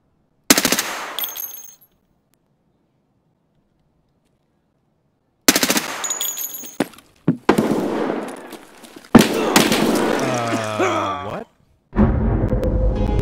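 Bursts of gunfire in the tactical shooter Escape From Tarkov crack out loud and close, first a short volley, then after a pause several rapid automatic strings and a final sustained burst.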